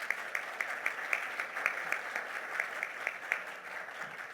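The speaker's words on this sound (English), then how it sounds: "can we please give Miss Rachel a huge round of applause?" An audience at a mental health symposium gives a round of applause for a woman asked to stand, a soft, fairly distant patter of clapping with a gently pulsing rhythm.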